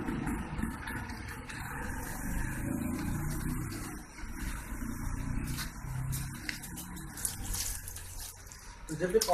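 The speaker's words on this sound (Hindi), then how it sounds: "तो दोस्तों अब इसमें हम पानी डालेंगे" Water poured from a container into a potted walnut bonsai sapling, a steady close splashing and trickling that runs several seconds and ends with a few louder splashes.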